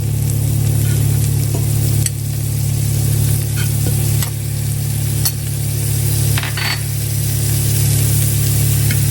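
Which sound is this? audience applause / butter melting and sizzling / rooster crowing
butter melting and sizzling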